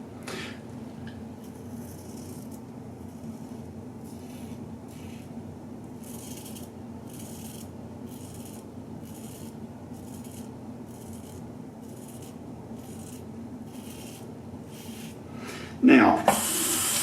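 A razor blade lightly shaving whiskers gives a soft, repeated rasping scrape in short strokes, faint and close, with a louder bump near the end.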